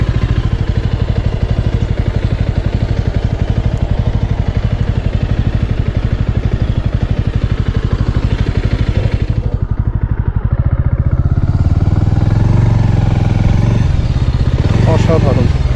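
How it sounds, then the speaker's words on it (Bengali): A motorcycle engine drones steadily as the bike rides into a parking area near a reception office, close and loud throughout, rumbling lower toward the end as it slows. "তো পার্কিংটায় বাইকটাকে ঢুকিয়ে দিই আগে।"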